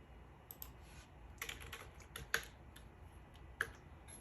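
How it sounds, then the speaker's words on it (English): Fast typing on a computer keyboard at a PC with an 8-core, 16-thread processor, heard as irregular bursts of light key clicks with a few sharper taps, close and fairly quiet, with no talking. "Typing in more stuff."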